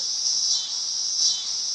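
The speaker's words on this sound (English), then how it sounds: "if you can hear me above the loud insects behind me" Outdoor crickets chirp in a dense, steady high-pitched trill that swells slightly in pulses, fairly faint and alone with no voices.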